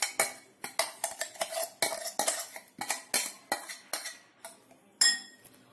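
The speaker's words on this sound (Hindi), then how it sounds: "अब मैं इसे एक बाउल में पलट लेती हूँ।" Coarsely ground lime for a sweet lime pickle is tipped and scraped out into a bowl, a quick run of close, sharp clinks and knocks of utensil on dish in an irregular rhythm, with no voices.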